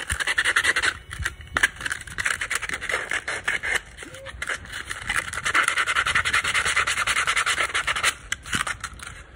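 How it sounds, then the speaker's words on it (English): Sanding on Django-style Mando foot armor gives close, rapid back-and-forth scratching strokes, continuous and rasping with brief pauses between passes. "I am currently sanding down all the original work done to it"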